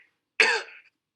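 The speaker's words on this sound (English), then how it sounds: "didn't you already get taught how to cough into your elbow on national television" A single short, sharp cough, dry and close, ending in a brief rasp in otherwise quiet surroundings.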